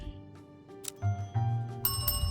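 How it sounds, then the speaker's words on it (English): A bell on a shop counter in a video game, rung to close out the workday, chimes with a bright metallic ring over background game music, with a couple of struck tones in the second half. "you can ring the bell on the counter to end the workday"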